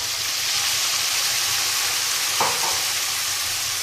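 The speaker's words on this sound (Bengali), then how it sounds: "এখন মশলাটাকে আলুর সঙ্গে ভালো করে কষিয়ে নেব" Spice paste and fried potatoes sautéed together in a pan for a rohu fish curry with yam, giving a steady, close broadband sizzle with one brief clink or scrape partway through.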